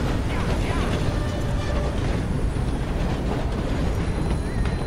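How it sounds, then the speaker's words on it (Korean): A train passing in the Western video game Red Dead Redemption 2, a steady loud rumble with clattering and a faint whistle-like tone, running continuously throughout. "기차가 지나갑니다."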